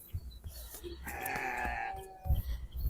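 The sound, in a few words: goats bleating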